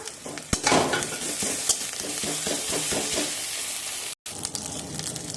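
Onions fry with garlic and ginger in a pan, a loud steady sizzle close up with repeated spatula stirring and scraping against the metal, one brief cut near the end, no talking.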